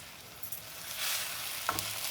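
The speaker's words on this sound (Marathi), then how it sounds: "हा गूळ खाली लागेल त्यामुळे परतत राहा सगळं आता विरघळत आलेलं आहे" Raw mango chunda cooking down with melting jaggery in a pan, stirred with a soft steady sizzle and one sharp scrape of the spoon near the end, close and fairly quiet.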